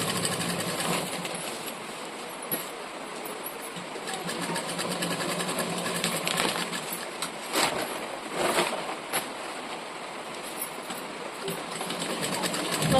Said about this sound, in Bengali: আর এই যে দেখো আমি কিন্তু ডাবল সেলাই করে নিচ্ছি